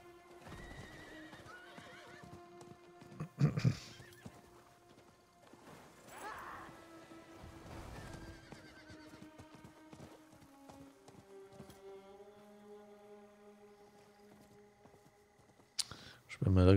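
A horse in the video game Diablo 4 neighs and whinnies loudly at several points over a steady game soundtrack, with a clip-clop of hooves running beneath and a sharp crash near the end.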